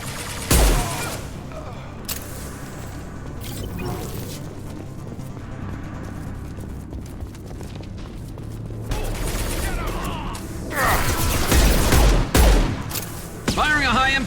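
Gunfire in Mass Effect 2, loud bursts of weapon shots and impacts over a busy combat soundscape, with heavier volleys toward the end and a voice speaking briefly amid the fighting.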